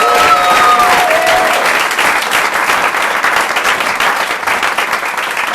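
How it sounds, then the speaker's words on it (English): An audience at the Hideout Theater applauding steadily, dense clapping that fills the room and carries on without pause, with a few cheers at the start. "Give yourselves another round of applause."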